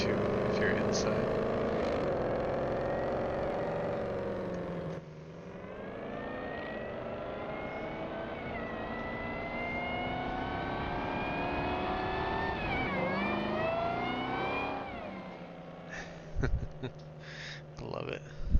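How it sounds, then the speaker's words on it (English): A Dodge Cummins truck in Farming Simulator 19 gives a steady engine whine heard from inside the cab, rising and falling in pitch as it revs, with someone talking over it throughout. "you can actually hear the whine of the engine too if you're inside."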